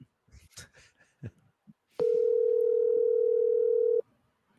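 After a few soft scattered noises, a steady phone ringback tone sounds loud and unbroken for about two seconds during a call to a friend, then cuts off sharply.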